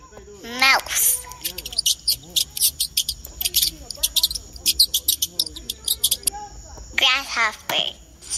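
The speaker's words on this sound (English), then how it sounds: "Grasshopper." A grasshopper chirps in a quick run of short, sharp pulses at a steady rhythm, close and fairly loud, with a voice speaking at the start and end.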